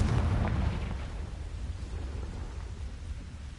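A Confringo explosive spell cast in Hogwarts Legacy, a deep booming blast at the start that fades into a long rumbling, crackling tail.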